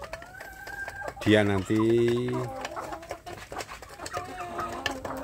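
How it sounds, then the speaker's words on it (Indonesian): Village chicken chicks in a rearing coop peep and cluck in short calls throughout, with a loud drawn-out crow or cackle partway through, under a man's speech. "ini anak ayam kampung yang ada di kandang pembesaran ini"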